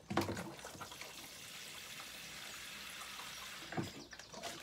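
Liquid plant feed mixed in a watering can pours out in a steady close stream of splashing water, with brief louder splashes at the start and near the end.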